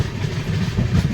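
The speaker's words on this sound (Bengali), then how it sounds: "সকাল 8:30টার সময় ট্রেন এসে পৌঁছালো মেদিনীপুর স্টেশনে" The Rupasi Bangla Express rolls into Medinipur station with a brief low rumble of wheels and engine, heard up close without voices.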